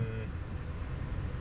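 Road traffic in a small jam, heard from inside a 4-ton truck on a lakeside road: a steady low engine and road rumble, with a brief horn-like tone at the very start.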